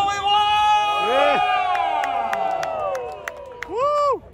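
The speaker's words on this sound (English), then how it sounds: "the crowd is going wild" Spectators at a Chingay Carnival wrestling match cheer and whoop loudly, rising and falling shouts and sharp claps overlapping throughout, with a final burst of yells near the end.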